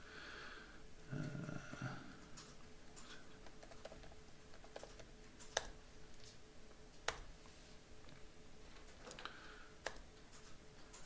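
Keystrokes from typing on a computer keyboard, faint and scattered, with sharper isolated clicks standing out over a low room background.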